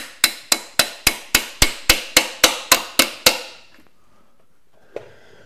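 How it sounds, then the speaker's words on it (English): A hammer taps a part on a 1975 Volkswagen Bus about a dozen times in a steady, even rhythm of sharp, close metallic knocks, then stops, with one lighter knock after a pause. "And get a hammer and just"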